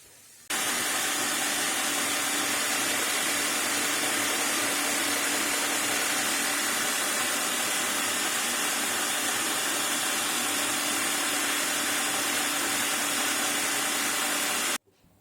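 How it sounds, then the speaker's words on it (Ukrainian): A meat grinder runs continuously, grinding cooled fried onion in a home kitchen, a loud steady motor whir that starts abruptly and stops at the end. "Ми її знімаємо з вогню, даємо вихолонути і пропускаємо через м'ясорубку."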